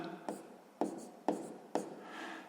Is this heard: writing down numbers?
yes